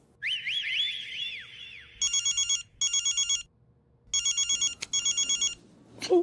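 A phone ringtone starts with a rising electronic melody, then trilling bursts of ringing repeat in short pulses with gaps, fairly loud and close.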